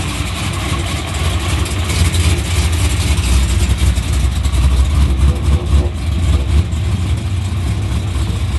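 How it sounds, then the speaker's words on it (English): Dodge Charger built to Fast & Furious style, its engine idling steadily at about 950 to 1000 RPM, with a loud, deep, continuous rumble close by and no surging. "then it starts idling perfect at 950, 1000 RPM"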